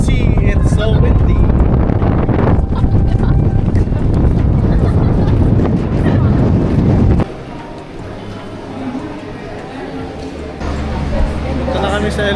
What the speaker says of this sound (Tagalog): As you can see, it's so windy.